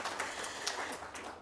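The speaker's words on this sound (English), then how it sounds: "they're worthy of clap." Audience of educators at a presentation clapping, a steady, faint patter of many hands applauding continuously for a brief moment.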